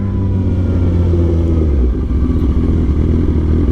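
Motorcycle riding with its engine droning in a loud, steady low rumble, close to the rider with constant wind and road roar throughout.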